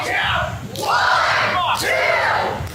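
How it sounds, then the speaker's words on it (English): A pro wrestling crowd at a live showcase event shouting in loud, rising bursts of voices, swelling twice as if counting along together, with a dense, near roar between the calls. "Crowd counting along."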